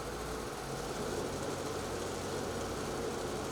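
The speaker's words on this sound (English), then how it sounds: "start the engine and apply a small amount of throttle until the track turns slowly" A Polaris Matryx INDY snowmobile engine runs at light throttle with the track turning slowly, giving a steady, even mechanical drone and broadband rumble with no talk.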